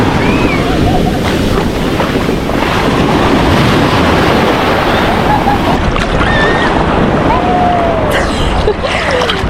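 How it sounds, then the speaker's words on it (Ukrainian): Ocean waves in Mexico captured by a waterproof camera, a loud continuous rushing churn of surf and water with heavy wind buffeting, muffled and close, with faint voices briefly near the end. "Підемо разом пірнати у хвилі океану."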